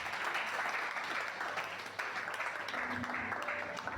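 A church breakfast audience breaking into sustained applause, a dense, even wash of clapping from many hands filling the room, with faint voices underneath.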